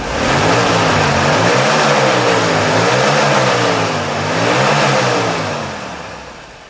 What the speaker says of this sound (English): And now let us show how the car sounds.